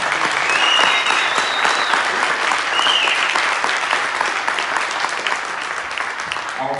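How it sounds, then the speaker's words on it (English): A concert audience applauds a 94-year-old former conductor of a community big band in Columbus, Georgia, with dense, steady clapping that fills the room and holds strong throughout, fading only slightly toward the end. "Let's give him a round of applause for that."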